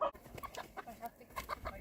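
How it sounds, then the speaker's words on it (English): A farm chicken clucks in short, irregular bursts fairly close by, with scattered faint background noise in a barnyard setting. "I should catch your little chicken!"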